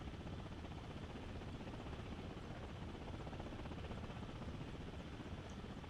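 Helicopter in the Thunder Helix video game descending at lowest throttle, a steady, dense rotor and engine drone that stays constant and loud throughout, with no talking over it.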